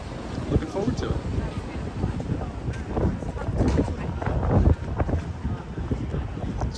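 Gusty wind buffets the microphone on a night street in Amsterdam, a steady rumbling roar with louder surges, the whoosh carrying alone with no voices.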